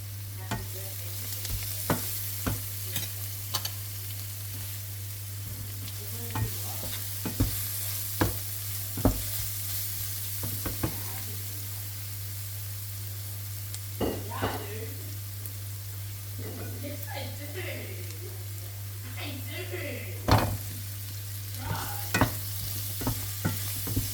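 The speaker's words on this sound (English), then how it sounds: "Now I'm adding some green capsicum, and then just mixing this through." Sliced carrots, halved potatoes and green capsicum frying in a pan for a beef stew, a soft continuous sizzle under a steady low hum, punctuated by repeated clacks and scrapes of a utensil stirring, with no clear talk.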